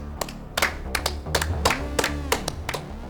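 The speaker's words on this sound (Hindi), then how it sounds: "शेर के लिए तालियां भाई।" A few people clapping in a drama scene, about nine sharp separate claps spread irregularly over three seconds over a low background hum, close and fairly loud.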